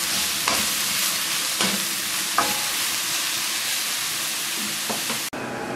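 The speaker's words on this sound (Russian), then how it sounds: "Пока грибы наши жарятся," Mushrooms frying in a pan for a chicken in cream sauce dish, a steady close sizzle and hiss with a few soft clinks of stirring, cutting off abruptly near the end.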